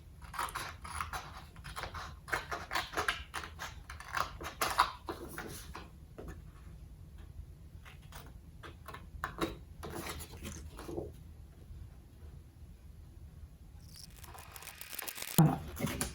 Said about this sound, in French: j'utilise bien sûr les ciseaux tout de même